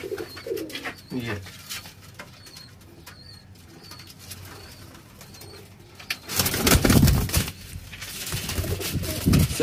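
Neela pigeons coo softly in low repeated calls, with some wing rustling and a louder burst of cooing and movement later on.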